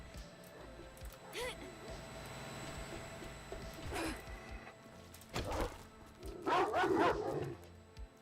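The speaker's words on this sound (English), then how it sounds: "Oh, we got multiple dogs here." Several dogs in a wasteland survival video game bark and yip in short scattered bursts, the loudest cluster near the end, over a steady game background.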